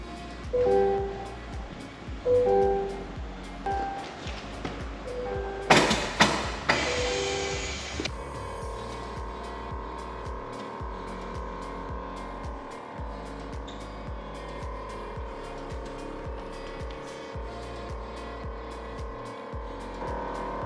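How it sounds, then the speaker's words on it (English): An air-ride suspension compressor on a widebody C8 Corvette runs with a steady electric hum and whine, preceded by a few clicks, thumps and a short hissing burst as the system engages, all close by. "So you can probably hear the compressor running."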